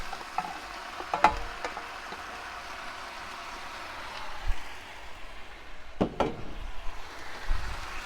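Vegetables tossed into a pot of sealed chicken for a camp stir-fry, with a soft, steady sizzle broken by a few sharp knocks and scrapes of a utensil against the pot.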